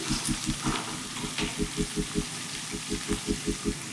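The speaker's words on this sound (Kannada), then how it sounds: "ತೀರಾ ಡೀಪ್ ಫ್ರೈ ಏನು ಮಾಡೋದೇನು ಬೇಕಾಗಿಲ್ಲ, ಸ್ವಲ್ಪ ಫ್ರೈ ಮಾಡಿಕೊಂಡ್ರೆ ಸಾಕು." Chopped onions fry lightly in a pan for bansi rava upma, a soft steady sizzle with regular stirring pulses scraping through it.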